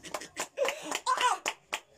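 A group of people clap their hands at a religious gathering, giving several sharp, rhythmic claps spaced about a quarter second apart, fairly close, mixed with a speaking voice.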